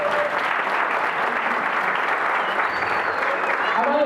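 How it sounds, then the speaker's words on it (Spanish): A congregation at a missionary church service applauds, dense sustained clapping from a crowded hall, loud and even, with faint voices mixed in. "Den un aplauso a Jesús."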